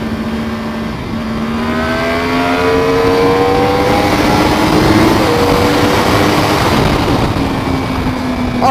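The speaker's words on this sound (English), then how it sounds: "R1M, this R1's got great power. And a great throttle response." A Yamaha R1M motorcycle accelerates hard along a road, its engine rising in pitch through the gears, loud and close with a continuous roar and no talk.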